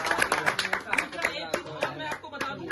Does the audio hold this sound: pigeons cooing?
no